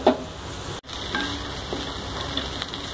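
Cabbage and moong dal fry, just mixed with ground coconut, sizzles steadily in a pan as a spoon stirs and scrapes through it, with a brief clatter at the start and a short cut partway.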